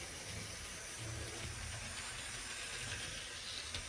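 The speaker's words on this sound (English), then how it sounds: "Train's going around by itself." A Tyco G.I. Joe toy electric train running around its track on its own, a faint, steady whirring hiss with a low rumbling hum of wheels and motor, no voices.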